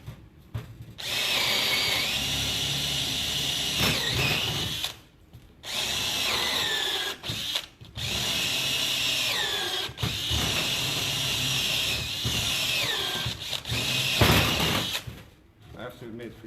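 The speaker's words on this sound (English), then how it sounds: "So I have this slice of wood. And let me show you. I have a little incision here. I'm going to drill some holes." A blunt power drill boring holes into a slice of wood, several sustained whining bursts separated by short pauses, loud and close.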